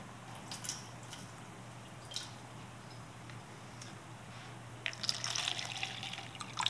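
Water runs steadily from a faucet rinsing a pH meter, with a few light drips and ticks, growing louder and splashier near the end; no one speaks.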